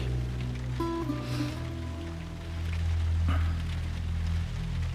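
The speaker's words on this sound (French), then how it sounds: "Comment il pleut." Steady rain from The Last of Us, a soft continuous hiss that stays even throughout under low musical tones and ambience, with no speech.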